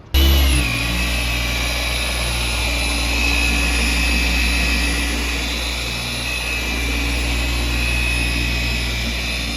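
A dual-action (DA) polisher runs on car paint, starting abruptly and then holding a steady, close motor drone with a faint high whine that swells slightly over the stretch.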